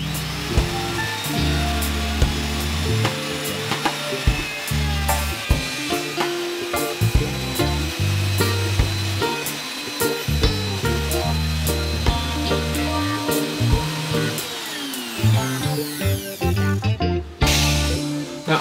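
A power router cuts a cavity into a Les Paul Junior style guitar body, giving a loud, steady high-pitched motor whine with a dense grinding edge that runs nearly the whole time and briefly drops near the end.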